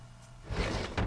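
A sliding door in a home slides shut in an animated scene, a short rolling scrape followed by a soft thump near the end, close and fairly loud with no talking.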